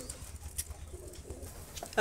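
Pigeons, two males and a female of fancy breeds kept for sale, cooing in low repeated throaty pulses close by, with someone talking over them.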